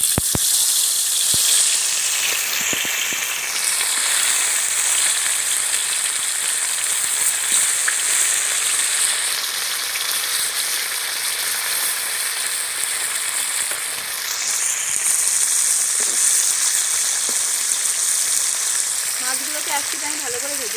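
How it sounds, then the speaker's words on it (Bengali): Parshe fish frying in hot mustard oil in a pan, giving a loud, steady, close sizzle and crackle that runs unbroken for about twenty seconds. "এবার আমি মাছগুলো ভেজে নেব।"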